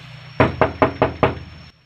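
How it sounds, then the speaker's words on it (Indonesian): Five firm knocks strike a house door in quick even succession, close and loud, with a quiet room before and after. "Kok ketok-ketok Mas rumahku?"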